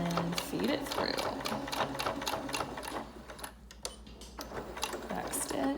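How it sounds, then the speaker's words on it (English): Sewing machine stitching a ribbon face mask, a close rapid mechanical chatter running steadily, easing briefly midway before resuming, with a voice speaking over it. "I'm gonna start sewing."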